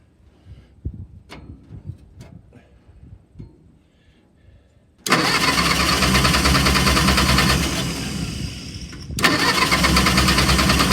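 A pony motor on an Insley excavator cranks without firing: after quiet handling noises, a loud, steady mechanical churning starts abruptly and holds, dips briefly, then resumes just as strongly.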